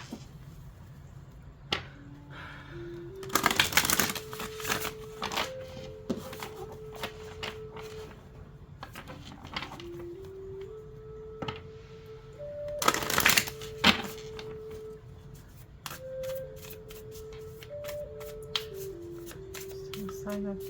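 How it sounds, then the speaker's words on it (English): Tarot cards being shuffled by hand in two loud riffling bursts with lighter card flicks between them, over a soft melodic tune playing in the background. "Let me continue shuffling."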